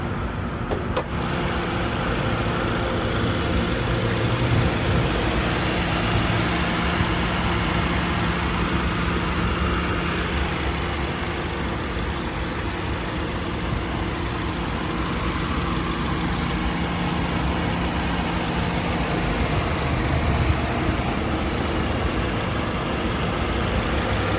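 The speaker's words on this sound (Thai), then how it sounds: "เครื่องยนต์เดินนิ่เรียบนะครับ" A car engine idles steadily with a smooth, even hum and no revving, running alone without any talk.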